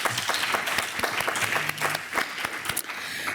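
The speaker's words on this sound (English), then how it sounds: "Let's give him another round of applause." An audience at a food policy forum in Barcelona gives a speaker a short round of applause, with scattered, uneven claps lasting a few seconds.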